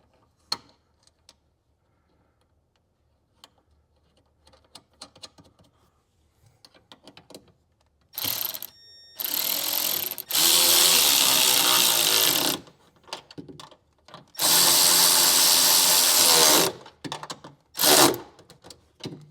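Tools tightening 10mm nuts and 11/32 bolts on a speaker bracket while installing audio in a 2023 Ford Bronco, with several loud bursts of fast mechanical whirring broken by short pauses and a few light clicks.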